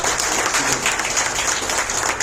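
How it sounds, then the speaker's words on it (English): An audience at a corporate presentation session applauds steadily, dense continuous clapping heard fairly close and filling the whole moment. "So I request everyone to give a good applause"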